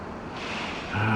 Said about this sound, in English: Oh, here comes a big gust.